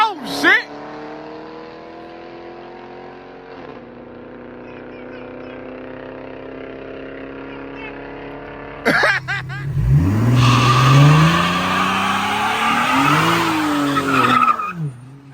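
A twin turbo 3.0-liter Infiniti Q50 drones steadily under load, then tires squeal and skid as the engine revs harder, loud and close, with people talking excitedly over it.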